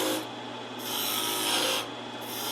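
Lathe gouge taking a peeling cut in spinning wood while turning a garden dibble, a steady rasping scrape that swells and eases in two long passes over a constant motor hum.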